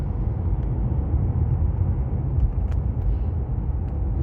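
Car in self-driving mode accelerating toward a tunnel in a 90 zone, a steady loud low road rumble and engine drone from inside the cabin, with no talking.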